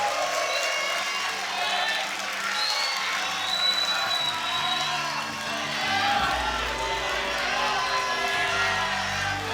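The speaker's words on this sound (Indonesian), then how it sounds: "kepada seluruh pendukung mari kita berikan tepuk tangan dan semangat" A crowd at a debate applauds and cheers continuously, clapping mixed with shouts and whoops, with voices talking through the noise.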